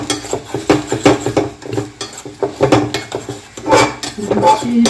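A spoon scrapes and clatters against a small kadhai in quick, uneven strokes as food is stirred and lightly roasted, with a voice talking faintly in the background.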